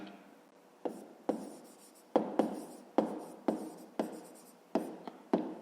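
Pen strokes on paper come close by as numbers are written down for a fifth-grade maths exercise, a series of about ten short scratchy taps and scrapes in an uneven rhythm, with no voices.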